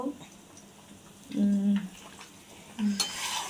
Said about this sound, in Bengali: ডিম লাড়া দিবা না হ্যাঁ, লাড়া দাও একটু বড় বড়